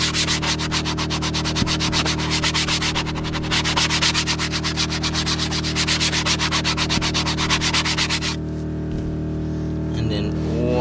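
Stiff brush scrubbing a plastic car interior surface, a steady rapid rasping back-and-forth close by under a low electrical hum, stopping near the end.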